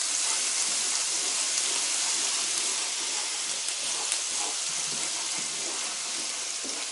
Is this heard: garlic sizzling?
yes